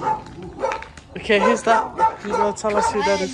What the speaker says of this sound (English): Look at the dog over there.